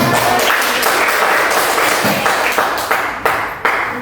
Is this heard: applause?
yes